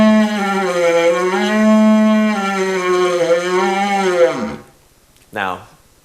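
A didgeridoo blown too hard and too fast gives a strained, wavering, buzzy drone with shifting pitch for several seconds before breaking off, followed by a short separate sliding blast.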